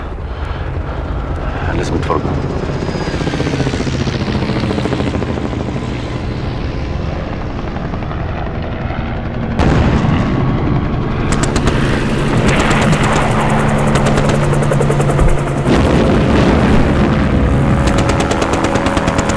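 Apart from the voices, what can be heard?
warplanes flying overhead in an attack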